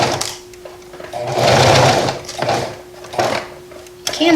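A sewing machine stitching a fabric face mask runs in close, loud bursts of rapid needle chatter, speeding up and slowing between short pauses, with a faint mechanical hum underneath.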